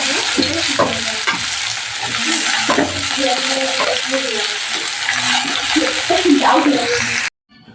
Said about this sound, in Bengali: তো দেখো তিতা করলা ভাজাটা হয়ে গেছে